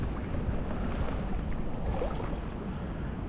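Strong, steady wind roars across the microphone during salmon fishing on a river beat at Dochfour, a constant buffeting rush with no pauses and no voices.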